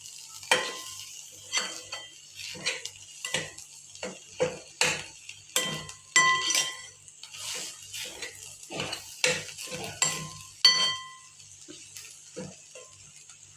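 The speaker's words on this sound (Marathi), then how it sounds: "आता परत एकदा छान हलवून घ्यायचं आहे." A spoon repeatedly scrapes and knocks through mashed potato filling with salt in a pan, rhythmic sharp clinks and wet stirring strokes, close and clear, with no talking.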